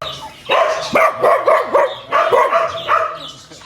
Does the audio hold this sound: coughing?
no